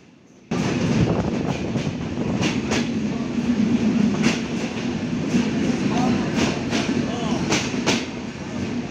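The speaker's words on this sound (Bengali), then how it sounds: "চিত্রা এক্সপ্রেস ট্রেন প্রবেশ করলো চুয়াডাঙ্গা রেল স্টেশনে" Chitra Express passenger train pulling into Chuadanga railway station, a steady loud rumble of rolling carriages with rhythmic clickety-clack of wheels over rail joints throughout.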